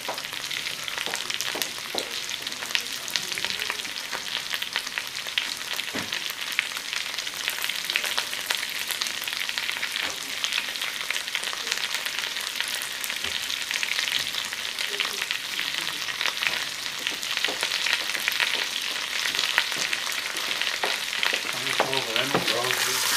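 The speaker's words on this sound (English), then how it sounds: "I'm going to fry this up." Malaysian dry curry paste fries in a pan while a spatula stirs and scrapes it, a dense, steady sizzle with frequent scraping strokes throughout, close and fairly loud, no talk.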